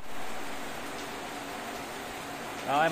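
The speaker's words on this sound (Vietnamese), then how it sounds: "Mưa các bạn thấy mưa không?" Rain falls steadily in the Vietnamese countryside as a soft, even hiss, with a brief nearby sound rising at the very end.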